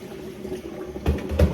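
Water from a kitchen tap runs in a soft, continuous trickle while eggs are peeled, with a couple of louder splashing bursts near the end as hands move under the stream.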